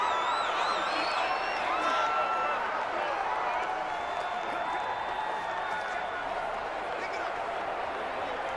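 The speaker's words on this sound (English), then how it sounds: "the crowd getting into it as we come up on a big 3rd down" Stadium crowd noise in the Madden NFL 20 video game during a Chicago Bears vs New York Jets match on a big third down: a steady, loud roar of cheering with scattered whistles and whoops, sustained throughout.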